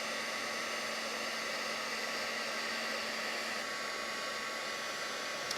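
A heat tool blows steadily and loudly the whole time, a constant airy roar melting gilded faux leather tape onto card, with no talking.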